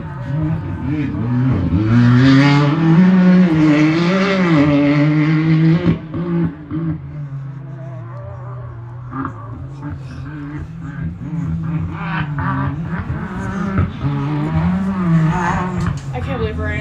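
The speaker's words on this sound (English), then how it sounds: "Here comes Paul Leach across the Elevated Power Sports start-finish line. Starting his 6th lap in the second half of his race." A UTV Unlimited race vehicle crosses the start-finish line at a high desert off-road race in Powell, Wyoming, its loud engine roaring and revving steadily close by, with an announcer talking over it throughout.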